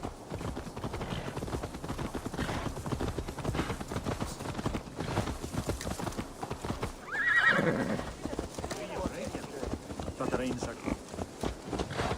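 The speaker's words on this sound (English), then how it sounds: "Let's return the horse." In Assassin's Creed Valhalla, a horse's hooves clip-clop steadily at close range and a whinny rises in the middle, with game voices and ambient sound running alongside.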